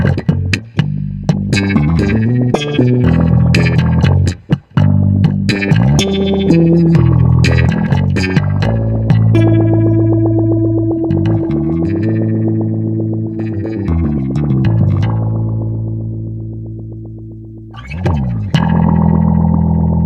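Electric bass played through a Soundblox 2 Orbital Modulator effects pedal, loud and upfront with modulated, distorted notes, a run of plucked phrases giving way to a long sustained low tone before fresh attacks at the end; no voice.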